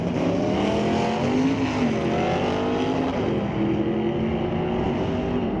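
Drag race cars in the right lane at Mission Raceway Park, competing in an ET Series race, roar loudly and steadily while the engine pitch climbs and shifts as they launch and run down the strip.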